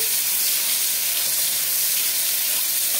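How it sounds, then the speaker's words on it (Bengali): Butterflied golda prawns fry in hot mustard oil, producing an even, loud, unbroken sizzling hiss close up. "তেল গরম হয়ে গেছে, চিংড়ি মাছগুলোকে আমি ভেজে নিচ্ছি।"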